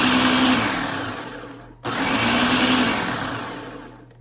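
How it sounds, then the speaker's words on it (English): A food processor whirs loudly through a keto cracker mixture in two long pulses, each one easing down before a short pause, with no voices present. "and now I'm going to pulse it some more."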